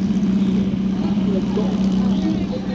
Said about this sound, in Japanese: エンジンを吹かして今スタートいたしました。